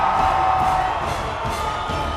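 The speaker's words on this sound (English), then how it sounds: "And the crowd exploded when they saw the results." A crowd at a bass fishing tournament weigh-in cheers loudly and continuously, a dense roar of whoops and shouts with no break.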